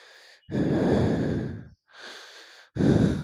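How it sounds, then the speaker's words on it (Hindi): Heavy, labored breathing like an old woman gasping hard, with a long loud inhale, a softer exhale and another strong breath, close and alone on a deserted village road at night. "वहाँ से हमें ज़ोर ज़ोर से ऐसे सांस लेने की आवाज़ आ रही थी"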